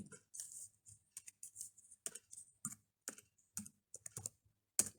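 Rapid bursts of computer keyboard typing as a channel name is entered, irregular clusters of key clicks separated by short pauses, close and clear with no talking.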